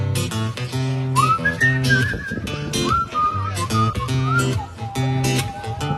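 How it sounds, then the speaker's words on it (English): A live concert crowd in Masstown, Nova Scotia whistles a tune together, carried over a steady musical backing with rhythmic beats. "Let's see how many whistlers we got in the crowd."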